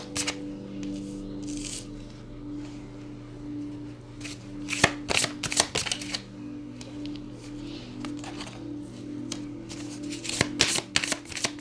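A deck of tarot cards being shuffled by hand, a run of crisp riffling bursts and soft slides, with sharper flurries near the middle and the end, close and fairly quiet over a low steady background hum.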